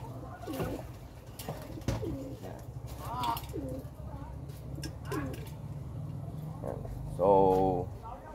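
Racing pigeons coo softly in a loft while being given water ahead of a north derby race, low murmuring calls scattered under steady talk, with a brief louder call near the end.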